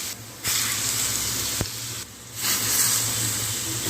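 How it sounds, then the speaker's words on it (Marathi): Very hot tempering oil is poured over cumin, asafoetida and turmeric set in a hollow of homemade tomato pickle, giving a loud, continuous close sizzle that surges twice as more oil hits the spices. "हे आपण कडकडीत तेल म्हणजेच फोडणी तयार केलेली यामध्ये घालून दिले"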